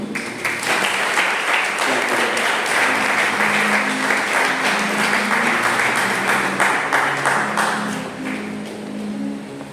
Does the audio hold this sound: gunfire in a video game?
no